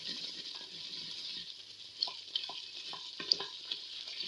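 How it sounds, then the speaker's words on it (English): Tomato paste being stirred in a hot frying pan for a mutton and vegetable curry, a steady sizzle under a few soft scraping strokes and light taps, fairly quiet and close. "So I just stir it for a few seconds."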